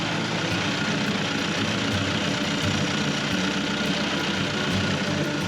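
A sailboat's engine running after being started on a new gasket: a steady, loud mechanical drone with a knocking, idling rhythm, close and continuous with no talk.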